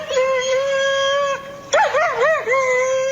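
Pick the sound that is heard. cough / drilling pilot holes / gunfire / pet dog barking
pet dog barking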